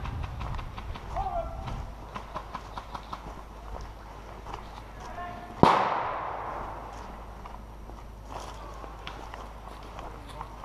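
Incoming gunfire in a video game: one loud sharp report partway through stands out from a steady bed of game noise, with rapid light clicks and scattered softer impacts around it.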